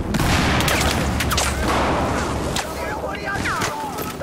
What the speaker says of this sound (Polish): Jestem, skąd tu strzelają?